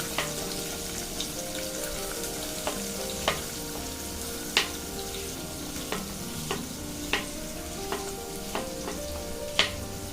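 Onion and tomato sizzle steadily in a hot pan, a continuous close fry with periodic scraping stirs of a spoon.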